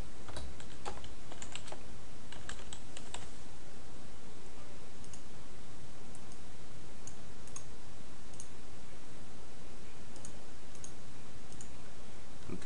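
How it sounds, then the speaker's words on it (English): A topic being typed on a computer keyboard: continuous close clicking keystrokes, denser at the start and thinning out, with no talk. "what you have to do is type the first topic that you want to talk about in your threaded discussion"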